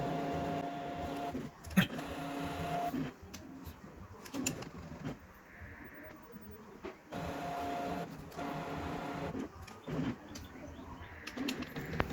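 A Brother DCP-T710W inkjet printer cleaning its print heads whirs and clunks through a mechanical cycle, with repeated motor hums, short clicks and shifting whines, fairly quiet and continuous.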